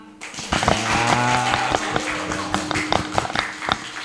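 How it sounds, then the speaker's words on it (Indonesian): Audience applause at an acoustic rock show, a burst of claps and taps rising quickly and continuing unevenly over music, with little talk. "Tepuk tangannya mana?"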